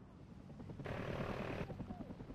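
A steady helicopter rotor drone in a team deathmatch video game, fairly quiet and distant, with game-like ambience and a short burst of louder broadband noise partway through.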